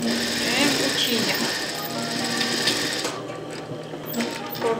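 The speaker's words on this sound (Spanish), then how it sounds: "Así cosemos en la mera orilla." Sewing machine stitching right along the fabric edge while a girl's empire-waist dress is made, a close, fast, steady mechanical whirr that stops abruptly partway through, with someone talking over it.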